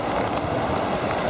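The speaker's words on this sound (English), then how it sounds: "Still raining." Steady rain pattering on a surface at a lake, a dense continuous hiss with occasional louder drops, alone without voices.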